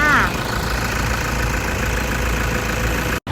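A Toyota Fortuner 3.0 D4D diesel engine idles at close range with a steady low rumble. Someone speaks briefly over it at the start.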